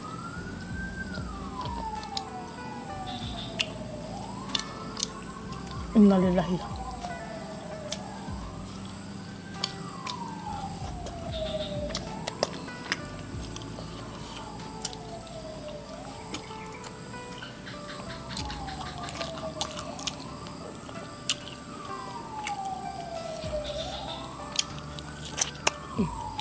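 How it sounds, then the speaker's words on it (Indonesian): An ambulance siren wails in slow, repeating rising and falling sweeps, moderately distant and steady for the whole span, while a person speaks briefly and occasional clicks and handling noises sit close by. "Ambulan guys."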